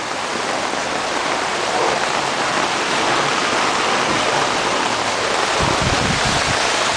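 Rainwater gushing from two downspouts into a 1,100-gallon septic tank used as a cistern, a loud, dense, continuous roar of falling water heard close up inside the tank, with no voices.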